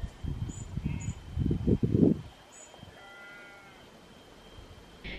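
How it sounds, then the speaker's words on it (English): A sheep bleats a few times at a holiday rental with a scenic view, the calls fairly close and loud against quiet outdoor ambience, followed by a softer stretch of background hush. "We can hear a sheep."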